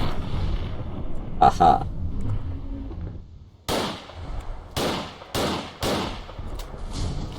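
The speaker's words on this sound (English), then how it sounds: "these gun sounds are loud" Loud gunshots ring out in the video game Fallout 4, modded with zombies: one early sharp shot, then a run of four or five heavy blasts spaced about half a second apart, with a voice briefly speaking between them.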